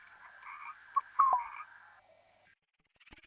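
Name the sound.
frogs croaking near water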